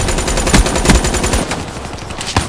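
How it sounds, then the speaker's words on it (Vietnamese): Rapid automatic gunfire in the PS4 video game Call of Duty: Black Ops 3, loud sustained bursts with sharp individual shots toward the end. "Còn anh nói nó bắn cả tỷ viên đạn."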